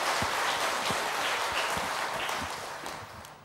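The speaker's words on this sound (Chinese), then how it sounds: "所以也要掌声谢谢在座的每一位" An audience in a Buddhist lecture hall claps together, a dense, steady patter of applause that holds for a few seconds and then begins to fade.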